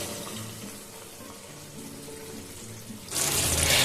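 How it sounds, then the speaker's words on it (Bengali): Water poured into a pot of spicy chicken as it cooks: a quiet kitchen hush, then a loud, bright rush of liquid pouring in near the end. "এই যে দেখুন আমি আরেকটু জল দিয়ে দিলাম।"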